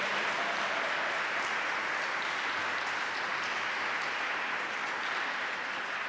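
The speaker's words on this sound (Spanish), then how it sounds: "Dele un aplauso a Dios, un aplauso al Señor." A large church congregation applauds steadily, dense clapping that fills the space evenly from start to finish without letting up.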